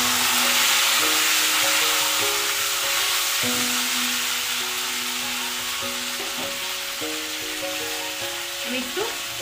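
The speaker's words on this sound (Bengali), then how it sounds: "তেল গরম হয়ে গেছে, আমি কাটা উচ্ছেগুলো দিয়ে দেবো।" Sliced bitter gourd frying in hot refined oil, a loud, steady sizzle that holds close for the whole stretch, with a few faint clinks and brief talk underneath.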